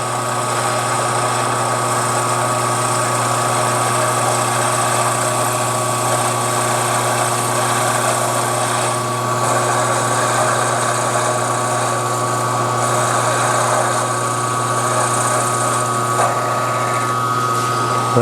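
Steady hum of a drill press motor running while boring a hole in a fixture block for radial engine cylinder heads, continuous and close with a constant tone throughout, no speech.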